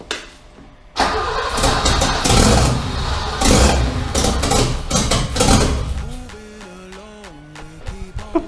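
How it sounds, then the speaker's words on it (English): A turbocharged BMW E30 engine cranks and fires up with a loud burst, then runs roughly and unevenly at close range before settling into a wavering idle with some revving. "I know the engine wasn't running right"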